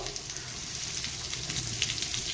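Onion frying in hot oil with garlic and whole spice tempering, a close, steady crackling sizzle with faint bubbling pops, no voices.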